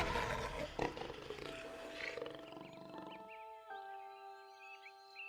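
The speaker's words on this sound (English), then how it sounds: "The jaguar's roar is one of the loudest and most terrifying sounds of the tropical forest" A jaguar in the Amazon forest lets out a deep, rough roar that fades after about two seconds, followed by a quieter stretch of sustained tonal calls and forest ambience.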